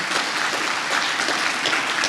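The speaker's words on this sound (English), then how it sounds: "So please, let's give a big round of applause to Khadija Ismailova." Audience at a journalism awards opening ceremony applauding, a steady, even wash of clapping from a large crowd, close and sustained with no talk over it.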